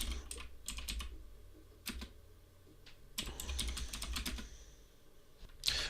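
Keys clatter on a computer keyboard as a Linux terminal command is typed, bursts of quick close keystrokes separated by short pauses, with no talking.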